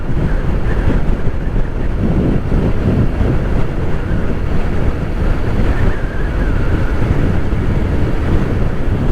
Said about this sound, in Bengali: অনেক বাতাস, প্রচন্ড বাতাস।